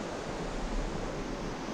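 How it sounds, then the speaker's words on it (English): Flowing water near Beddgelert in North Wales makes a steady, full rushing wash of broadband noise throughout, close and unbroken, with no voices over it. "the sound of water"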